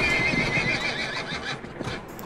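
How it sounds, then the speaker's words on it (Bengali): A pony pulling a tomtom cart neighs loudly in a long, strained whinny, with clip-clop hooves underneath and a dense, rough backdrop throughout. "ছক্কা মিয়ার টাট্টু ঘোড়া বিকট চিৎকার করে চেঁচিয়ে উঠছে"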